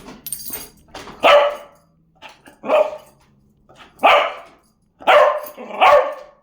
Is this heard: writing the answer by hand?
no